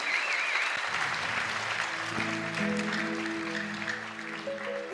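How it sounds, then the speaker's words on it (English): A large crowd at the 2009 Asian Youth Games closing ceremony applauds continuously in a wide stadium space, a dense wash of clapping that stays even throughout, with a faint voice and musical tones rising underneath toward the end. "can we give Amni a very big round of applause"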